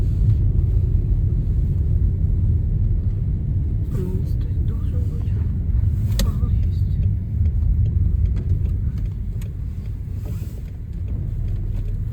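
A steady low engine rumble from an idling car, left running on a snowy winter day, continuous and close, with faint creaks and knocks over it.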